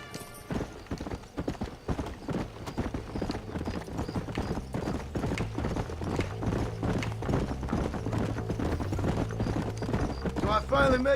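Horse hooves clip-clop steadily in Red Dead Redemption on Xbox One X, a brisk, even rhythm over low background music, with a whinny near the end.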